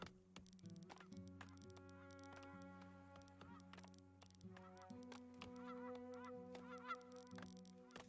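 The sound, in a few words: geese honking in the video game Farthest Frontier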